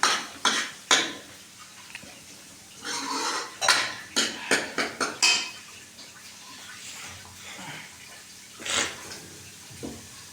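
A spoon scrapes and clinks against a pan as spice masala for black chickpea curry is stirred and roasted, irregular metallic knocks and scrapes close by with quiet gaps between.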